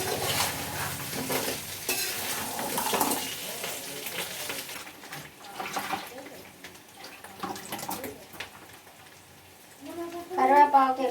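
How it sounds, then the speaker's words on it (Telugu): Curry leaves frying in hot oil crackle and sizzle up close, with stirring scrapes and splattering bursts, and a voice talks briefly over the frying near the end. "కరివేపాకు వేగలరా"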